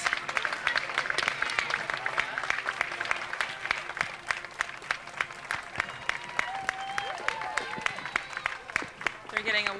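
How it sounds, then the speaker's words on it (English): A parade crowd applauds a marching alumni corps at a heritage days parade with dense, continuous clapping and a few cheers, and a commentator speaks over it. "They're getting a wonderful reception from the crowd."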